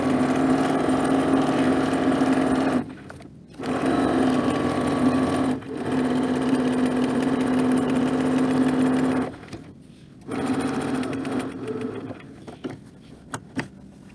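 A sewing machine hums steadily as it stitches apron fabric along curves, running in long bursts with brief pauses between, loud and close with no talking.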